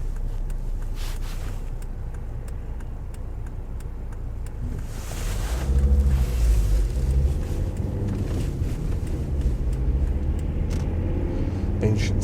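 Car driving along a road near Rye, heard from inside as a steady engine and road rumble with wind noise, growing louder and rougher partway through, with no talking.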